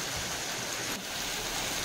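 Steady rain falls outside, a dense, even hiss of drops on surfaces with a brief dip partway through.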